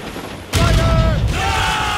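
Ship cannons firing in Assassin's Creed Rogue, a sudden loud booming volley that breaks in and rolls on, with a second burst of fire layered over the rumble, close and heavy.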